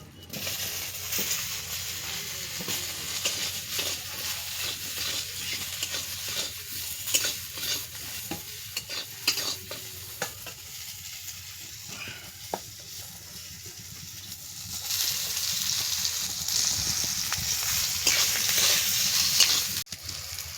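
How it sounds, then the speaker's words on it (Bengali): Cut eggplant frying in a pan for a fish curry, giving a steady moderate sizzle with scattered stirring clicks and scrapes that turns louder and hissier toward the end, with no talking. "এবারে আমি বেগুন কুটা একবার দিয়ে দেবো।"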